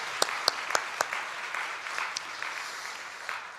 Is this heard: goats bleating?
no